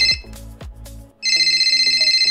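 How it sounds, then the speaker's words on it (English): An incoming call's ringtone on a phone cuts in partway through as a loud, steady repeating electronic ring with a pulsing rhythm. It follows a few seconds of other electronic tones and clicks. "I'm getting a phone call. It's literally interrupting the YouTube video."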